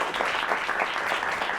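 A live studio audience at a season-finale talk show claps together in a dense, steady burst of applause that holds for under two seconds.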